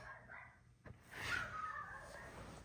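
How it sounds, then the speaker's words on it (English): A dog barks outside at something, a faint, distant bark heard through a room with a click and low background noise, the yelping trailing into a drawn-out whine. "he's really barking at something out there."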